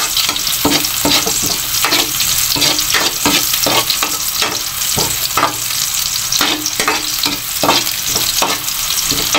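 Onions and garlic frying in a pan, a loud continuous sizzle broken by repeated scraping stirs, close and steady with no talk.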